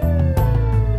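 A fire truck siren blares loud and close, a steady wailing tone with a brief break partway through.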